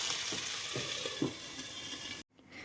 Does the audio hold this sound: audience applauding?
no